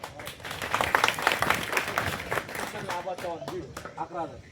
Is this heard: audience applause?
yes